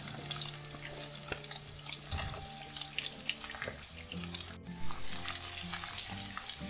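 Sliced onions sauté in a hot pan with a steady close sizzle, broken by occasional stirring scrapes and clinks; no one talks.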